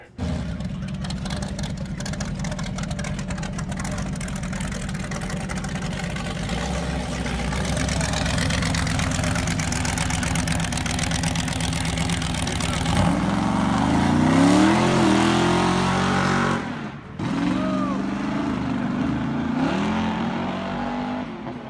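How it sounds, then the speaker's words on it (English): A car engine roaring and revving hard for a long burnout outside a funeral home, rising in pitch as tires spin, loud and close with crowd noise mixed in. "come and do a burnout in front of the funeral home with that car"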